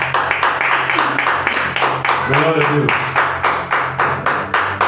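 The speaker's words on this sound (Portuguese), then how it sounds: "Aplauda o nome do Senhor bem forte." A church congregation claps loudly in a steady, even rhythm while a voice calls out praise briefly over the beat.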